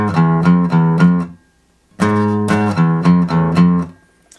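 Guitar plays the bridge riff on the 6th and 5th strings, two bursts of rapid, evenly picked notes separated by a short pause, loud and close with no talking.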